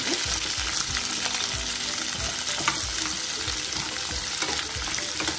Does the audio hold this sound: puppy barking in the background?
no